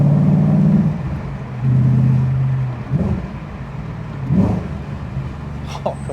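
Audi RS4 B7 with the F1 pack, its engine revving in loud, rising and falling surges with deep low rumble, several throttle blips close by, no talking.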